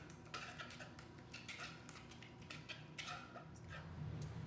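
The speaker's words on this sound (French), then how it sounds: "je vais ajouter le beurre et mélanger ça jusqu'à ce que c'est tout mélangé" Butter being stirred into lemon madeleine batter in a bowl, steady scraping and clinking of a utensil against the bowl with irregular taps and knocks, moderately close and without talk.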